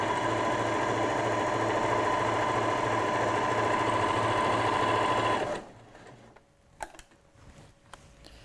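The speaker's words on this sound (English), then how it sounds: "I'm going to stitch around the edge, just leaving a turning gap in the lower edge" A sewing machine stitches around the edge of an apron in a steady, close, continuous whir for about five seconds, then stops abruptly, leaving a few faint clicks and handling sounds.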